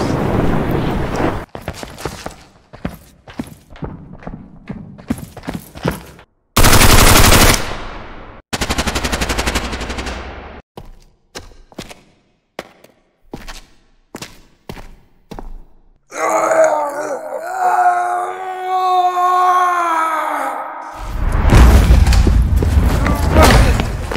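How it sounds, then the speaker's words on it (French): Sound effects for a short film recreating a video game: loud machine-gun bursts, single gunshots and booms mixed with grunts and groans, plus a stretch of warbling electronic tones. "Il y a des bruits de pas, il y a des bruits d'armes, il y a des bruits de guns"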